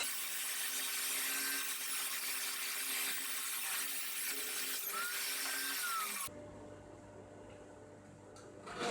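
A power saw cuts sides from MDF for small modular parts boxes, a loud steady broadband whine running continuously, then dropping away to a quieter low hum and faint rasp near the end.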